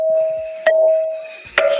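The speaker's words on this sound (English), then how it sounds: "Now, here's the sound of a temple bell." A temple bell gives a clear, sustained ring that decays slowly. A second, sharper strike near the end renews the tone.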